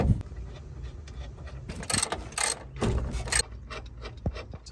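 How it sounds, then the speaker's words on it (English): A 15 mm socket wrench working steering column nuts loose on a 1991 Chevy C1500, heard as irregular close clicks and short metallic ratcheting bursts with small knocks between them and no talking. "let's go ahead and grab our 15 millimeter socket and remove these, and our column should drop"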